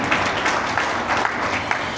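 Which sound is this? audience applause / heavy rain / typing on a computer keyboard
audience applause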